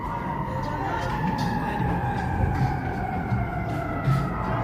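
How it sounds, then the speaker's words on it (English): Emergency vehicle sirens wail through downtown Chicago streets, rising and falling over a heavy bed of traffic and city noise, moderately distant and continuous. "With the sirens. Always sirens."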